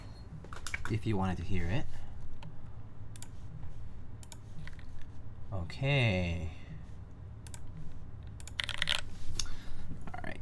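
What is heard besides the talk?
typing on EXENT keyboard with Gateron Slate linear switches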